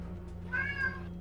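A house cat gives a single drawn-out meow, close and clear, rising and then fading over about half a second above a low steady background hum.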